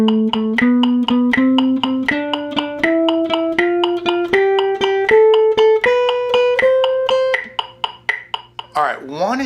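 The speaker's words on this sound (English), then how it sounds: "And this is our swing eighth." A jazz guitar plays swing eighth notes, a close, clear run of evenly picked notes stepping upward in a steady lilting rhythm, ending with a brief sliding tone.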